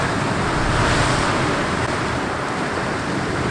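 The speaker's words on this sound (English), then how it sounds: "just capturing waves breaking" Ocean waves break on the shore in a loud, continuous roar of surf with wind buffeting the microphone, steady and without talking.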